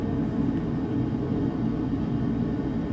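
Steady droning engine of an airplane cruising in Microsoft Flight Simulator over East Africa, a continuous low rumbling hum at even loudness with no voices.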